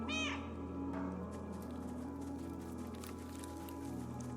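A single short cat meow opens the scene in the video game Stray, then fades into a quiet, steady game ambience with no further calls.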